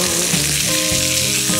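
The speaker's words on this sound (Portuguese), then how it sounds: "Agora que a cebola e o alho estão douradinhos" Chopped onion and garlic fry in olive oil inside a pressure cooker, giving a loud, close, continuous sizzle with no voices.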